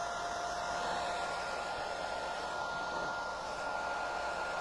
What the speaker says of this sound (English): hairdryer's here. Just making sure it's completely dry